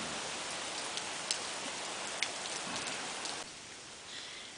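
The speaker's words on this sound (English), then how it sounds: "It is raining buckets" Dense, steady rain hisses close by at a campsite, with occasional sharper drips and taps standing out against the heavy downpour.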